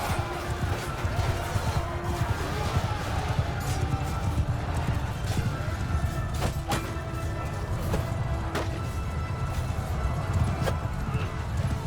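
Horses gallop through a battle in Mount & Blade II: Bannerlord, a dense continuous rumble of hoofbeats and clashing noise with occasional sharp hits and no speech.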